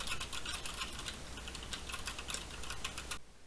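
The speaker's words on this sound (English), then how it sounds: "this is what it sounds like if you're typing on a mechanical keyboard while talking to someone using the headset" Rapid clicking keystrokes on a mechanical keyboard, picked up through a gaming headset microphone, patter in a steady fast run with faint background hiss and then cut off abruptly near the end.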